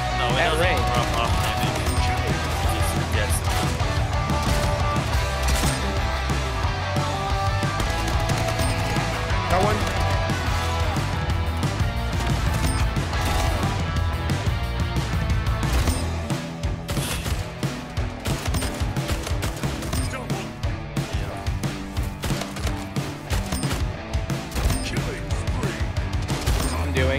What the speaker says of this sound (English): I'm just shooting through portals at each other.